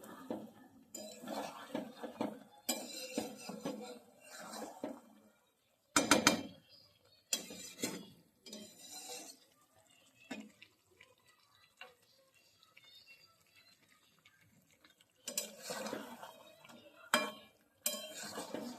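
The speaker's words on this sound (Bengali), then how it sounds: "জল দিয়ে আর একটু ভালো করে কষিয়ে নিই" Curry cooks down in a pan with added water, with intermittent metal clinks and scrapes of a spoon stirring between quiet pauses. The sounds are faint and close.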